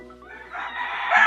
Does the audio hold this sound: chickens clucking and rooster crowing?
yes